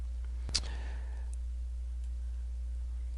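A single sharp computer mouse click, clicking in the TwistedBrush painting program, lands just after the half-second mark against a steady low hum, then quiet follows.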